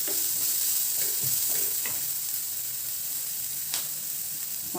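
Onions sautéing for chilli chicken, a steady dense sizzle close up with occasional light scrapes of a spatula against the pan and no talking.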